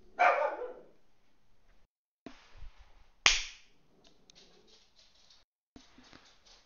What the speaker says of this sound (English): The dog thinks he's a guard dog.